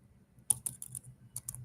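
Typing on a computer keyboard, a handful of sharp, uneven key clicks close by after a quiet moment, with no talking.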